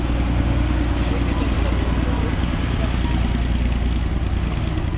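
A diesel joy ride train runs beneath Batasia Loop in Darjeeling, giving a loud, steady, close engine rumble with no break.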